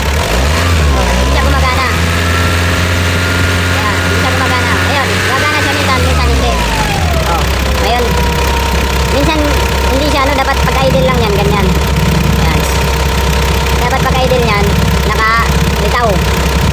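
Car engine idling with a turbo that whistles unusually loudly, a steady engine drone with a high whine that falls after about six seconds and settles into an idle, while people talk over it.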